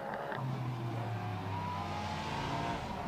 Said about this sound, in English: Almost sounds more like almost like a Ferrari engine, almost the naturally aspirated Ferrari engine to my ear.